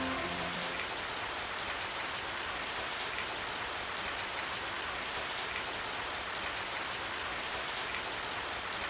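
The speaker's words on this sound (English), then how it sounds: "It started to rain." Steady rain patters and hisses on a surface in the video game Radiant Historia: Perfect Chronology, an even, continuous wash of drops without pause.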